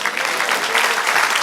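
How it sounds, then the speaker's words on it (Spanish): A church congregation applauds together in steady, dense clapping that holds at one level from start to finish, close and loud with no voice above it. "Denle aplauso al Señor."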